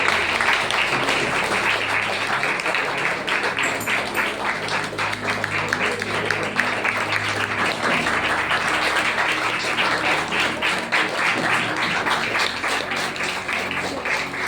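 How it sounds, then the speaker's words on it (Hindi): A church congregation gives loud, dense, continuous applause to welcome an apostle during a Sunday service, the clapping filling the room steadily throughout. "आइए जोरदार ताली के द्वारा उनका स्वागत."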